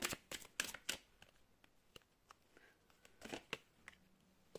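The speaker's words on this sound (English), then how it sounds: "Let's shuffle a little bit more." Crisp bursts of tarot cards being riffled and shuffled, several quick flurries separated by brief pauses, close and fairly quiet with no talking.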